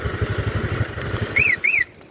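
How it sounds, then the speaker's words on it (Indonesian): Honda Vario 125 motorcycle idling after an alarm remote start, its engine putting out a steady, close low putter, topped by two short rising electronic chirps from the alarm near the end. "motor udah nyala, motor udah panas"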